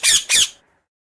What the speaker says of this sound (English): Parrot is a very beautiful bird.